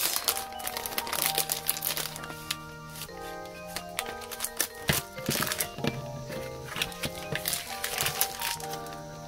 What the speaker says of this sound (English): These are the photo card sleeves I've gotten from Daiso.